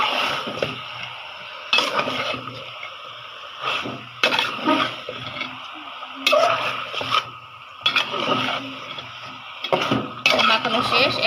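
Layer chicken meat being stirred and sautéed in a pan, with repeated bursts of metal-on-pan scraping and clinking between quieter stretches of sizzle, close and fairly loud.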